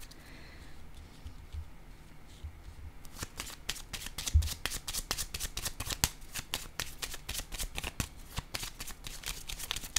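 A deck of cards is shuffled up close, starting with a soft rustle and then breaking into a fast, crisp riffle of rapid flutters that runs steadily to the end.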